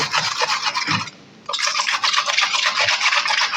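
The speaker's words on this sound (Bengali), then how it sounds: "বাঁধাকপিটা এভাবে ধরে আমি গ্রেটার দিয়ে এভাবে কুচি কুচি করে কেটে নেব" Cabbage is shredded on a hand grater for a cabbage paratha, a close, dense rasping scrape that runs steadily, drops out briefly for a moment, then resumes.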